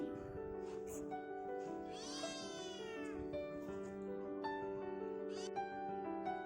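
A cat meows repeatedly, with one long rising and falling cry, over a steady background of sustained musical tones.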